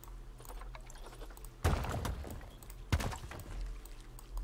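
Waterfall in the Planet Zoo video game, a soft steady pour of water that swells in two brief louder bursts, heard alone at a moderate, fairly distant level.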